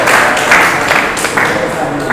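Loud audience applause for Dr Shahid Ashraf at a Jashn e Aazadi poetry gathering, a close, continuous clapping wash with a voice talking over it.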